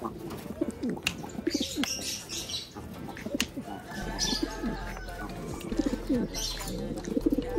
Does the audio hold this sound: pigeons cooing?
yes